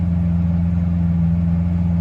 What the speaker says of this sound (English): you'll hear the exhaust note change